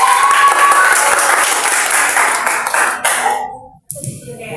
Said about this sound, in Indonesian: Tepuk tangan dong buat kamu.